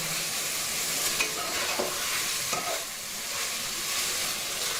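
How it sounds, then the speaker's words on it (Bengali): Pre-fried potatoes sautéed in a pan of spiced oil give a loud, continuous close-up sizzle, with repeated stirring scrapes running under it. "এক মিনিট সময় আলুটা কষিয়ে নেব।"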